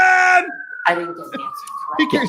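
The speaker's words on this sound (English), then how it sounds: "That's a siren outside of court." A siren outside a courthouse during a murder trial, a steady, slowly falling wail that carries on beneath people speaking in the courtroom.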